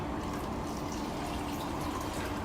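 Tap water pouring, a steady, moderately quiet rushing of running liquid with an even texture throughout and no voices.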